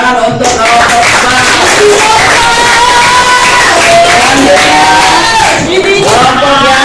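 A classroom crowd of students claps and cheers loudly for group 4, with shouting and whoops blending into a dense, continuous burst of applause.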